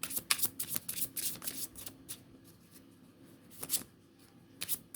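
Tarot cards are shuffled by hand in quick bursts of crisp riffling and flicking, close and fairly quiet, with short pauses between rounds and no talking.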